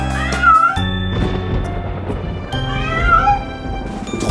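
Two drawn-out, high kitten-like meows rise and fall over a musical backing in a children's Halloween song, one near the start and one about two and a half seconds later.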